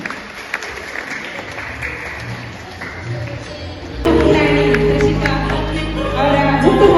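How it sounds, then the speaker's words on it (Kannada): An indoor audience claps for a girl's birthday celebration. Quiet room sounds come first, then the clapping starts suddenly and carries on, loud and sustained, with a faint murmur underneath. "ಕೂತಲ್ಲೇ ಚಪ್ಪಾಳೆ ಮೂಲಕನೇ ಶುಭ ಹಾರೈಸಿ"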